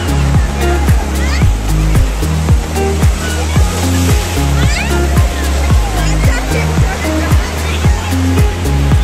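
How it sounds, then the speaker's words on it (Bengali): Sea waves breaking and washing onto Digha beach, a loud, continuous surf roar with repeated surges, overlaid by people talking and beachgoers' voices nearby. "দেখুন কত সুন্দর ঢেউয়ের স্রোত ছিল এত সামনেই।"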